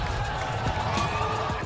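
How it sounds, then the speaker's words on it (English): Crowd cheering at a boxing event, a continuous dense roar of many voices filling the arena at steady loudness, with no single voice standing out. "The cheering."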